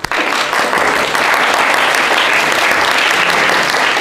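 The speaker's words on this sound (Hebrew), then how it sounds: "מחיאות כפיים לכל הרבנים הצדיקים" Sustained audience applause at a religious memorial gathering in honour of rabbis, dense steady clapping throughout at a loud, even level.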